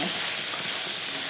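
Greens being stirred into a pan of sizzling ground meat for spaghetti meat sauce, a continuous bright frying hiss with soft scraping of the spoon, close and steady.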